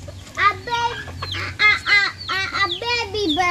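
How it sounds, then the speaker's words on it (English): A baby chicken chirps in a quick run of rising and falling peeps up close, with voices nearby. "A baby bird. A baby chicken."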